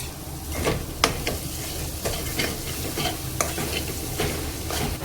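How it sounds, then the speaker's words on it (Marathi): Masala for dry bombil chutney fries in oil in a pan with a continuous soft sizzle, punctuated by regular scraping stirs of a spoon, close and steady with no talking. "आता मी यात ऍड करणार आहे अजून 1 चमचाभर तेल, जेणेकरून हा मसाला छान तेलामध्ये तळला गेला पाहिजे, फ्राय झाला पाहिजे."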